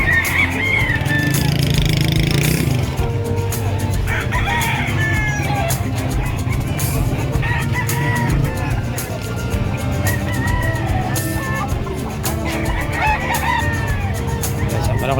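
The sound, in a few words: chickens and roosters at a livestock market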